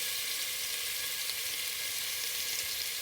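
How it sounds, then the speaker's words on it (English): Steaks for steak marsala fry in a pan with a constant loud, bright sizzle that holds steady throughout, with no pauses. "I'm just letting the steaks cook for about 5 minutes on each side"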